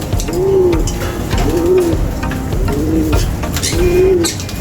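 A large bird calls nearby with four loud, evenly spaced hooting coos, each about a second apart, heard alone and clear.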